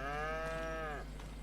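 Livestock call from cattle in a barn in the video game Farming Simulator 25: one sustained, strongly tonal moo-like bellow lasting about a second, close and loud over steady background noise, with no voices.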